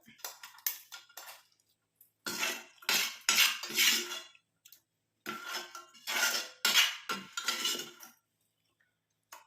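Liquid mixture poured through a wide-holed metal strainer, with clinking of metal utensils and dishes in bursts, fairly close and moderately loud, with pauses between.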